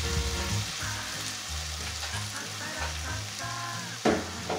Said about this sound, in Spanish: Vamos a echar el espagueti.